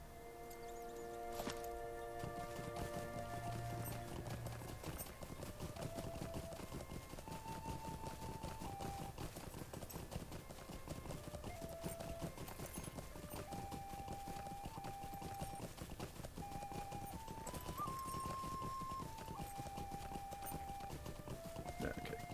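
Hooves of a stick horse mount clip-clop in a steady walking rhythm in the Lord of the Rings Online game, soft and continuous beneath tonal background music.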